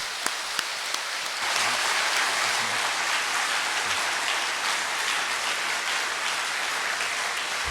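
Sustained applause from a church congregation at a Sunday service, thanking and honoring their pastor; dense, steady clapping swells after a few scattered early claps and fills the room for several seconds with no talk over it.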